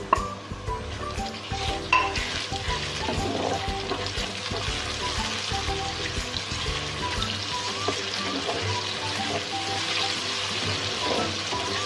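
Small boneless chicken pieces fry with onions in a pan, a continuous close sizzle with occasional stirring scrapes and a few louder knocks early on.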